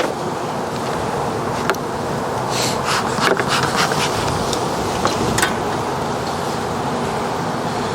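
Honeybees in an opened hive hum in a steady, fairly loud drone close by, with occasional brief bumps and wind-like rustle.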